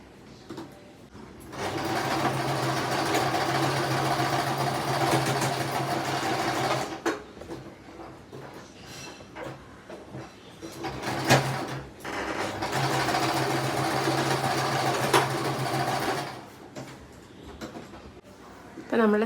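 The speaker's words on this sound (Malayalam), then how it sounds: "ഇനി ഓപ്പൺ എൻഡ് നമുക്കങ്ങ് സ്റ്റിച്ച് ചെയ്ത് കൊടുക്കാം." A sewing machine stitches the open end of a fabric scrunchie in two long, steady whirring runs separated by a pause, close and clear, with faint handling noises between.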